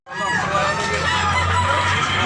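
Kanawayon rooster at a market in Tabunok, Cebu, a single loud, close crow held for about two seconds against faint background chatter.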